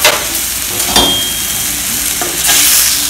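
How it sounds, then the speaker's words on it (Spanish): Vegetables and black and white sesame seeds sizzling in a pan while being stirred, with a steady frying hiss and a few scraping stirs, loud and close, without talk. "Vamos a revolver el fuego."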